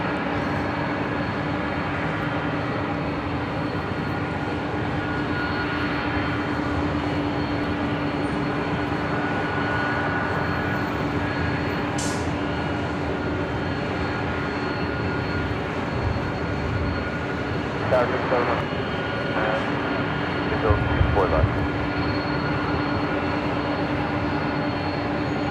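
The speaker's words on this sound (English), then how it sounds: "That is Delta Airlines Flight 670 heading to JFK in the" A Delta Airlines Boeing 767-300ER jet departs LAX, heard as a distant, steady engine roar with a faint tonal whine that holds evenly throughout, and a few brief louder bumps near the end.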